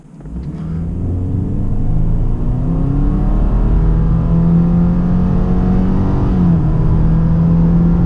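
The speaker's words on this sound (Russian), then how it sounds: "Приятный звук, да, у мотора Subaru." A Subaru car engine with a roof box fitted accelerates steadily, its loud, close revving rising in pitch through the gears with a brief shift dip near the end, heard alone.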